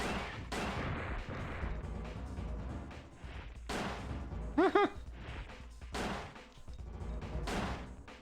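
Pistol gunshots in the 2000 PlayStation game Dino Crisis 2, a few sharp reports spread over loud, dense game action, with a brief tonal creature-like cry in the middle.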